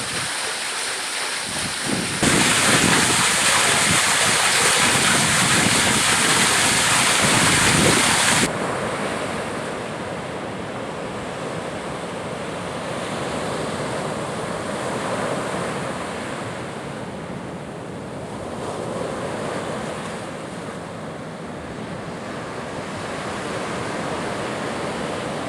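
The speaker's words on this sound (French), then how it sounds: "on entend le passage de l'eau." Waves wash against a shoreline, a loud broadband surge for the first several seconds, then a steadier, softer wash of moving water with wind noise, no voices.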